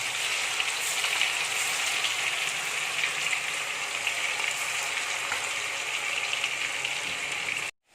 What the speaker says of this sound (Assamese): মাংসখিনি ভালদৰে ভাজিব।